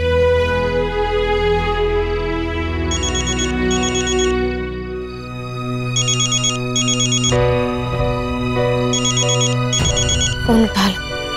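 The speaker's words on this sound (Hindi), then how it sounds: "फोन उठा लो," A melodic phone ringtone plays in repeated bursts of bright electronic tones, loud and close, ending with a few abrupt clicks.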